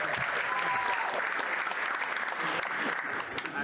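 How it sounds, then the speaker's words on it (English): Audience applause welcoming the judges back at a 2023 local celebrity dance competition, a dense, steady roar of clapping that stays loud and close for the whole moment. "let's welcome back our judges with a big round of applause for Ernie Cranius, Dawn Glass, and Jeffrey G"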